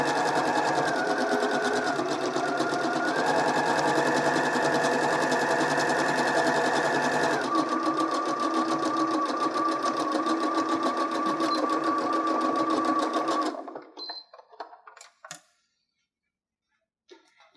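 A sewing machine runs steadily while stitching a lined zipper pouch, a close continuous motor hum with a slight pitch shift partway through, then stopping into a few soft clicks before silence.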